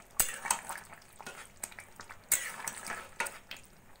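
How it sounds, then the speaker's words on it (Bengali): Mati aloo curry with ghee being stirred in a pan on the stove, with repeated scraping and clinking of a spoon against the metal and a soft sizzle underneath, close and fairly quiet. "সবকিছু ভালো করে মিশিয়ে নেব।"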